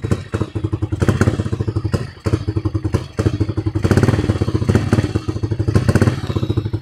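A motorcycle engine is revved repeatedly, with a rapid, throbbing exhaust that surges and dips as it hesitates to pick up when the throttle is opened suddenly, close and loud.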